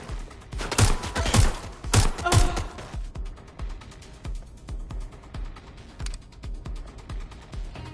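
Rapid bursts of gunfire from a firefight in the video game Watch Dogs Legion, loud and dense for the first few seconds, then thinning into scattered, fainter shots.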